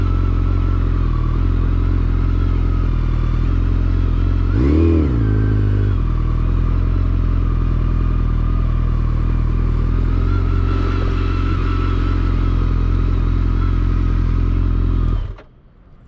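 Motorcycle riding through a Georgia license test course, its engine running loud and steady with a brief rev in the middle, then cutting off abruptly near the end.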